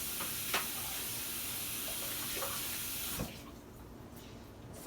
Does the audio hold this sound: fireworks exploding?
no